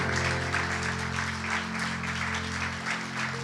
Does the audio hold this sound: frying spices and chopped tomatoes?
no